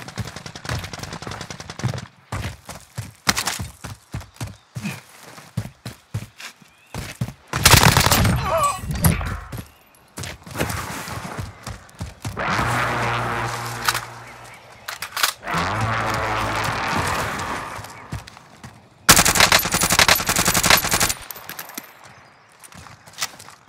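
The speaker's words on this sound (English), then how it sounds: "Taking effective fire!" Gunfire in the video game Call of Duty Warzone, bursts of automatic fire and rapid shots in loud clustered volleys, with in-game voice callouts and other effects between them.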